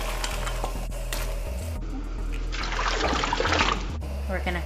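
Papaya pieces go into a pot of boiling water for a chicken and papaya curry, giving a burst of splashing and bubbling in the middle of the clip over a steady low kitchen hum.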